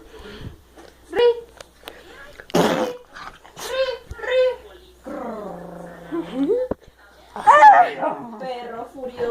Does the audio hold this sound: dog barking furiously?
yes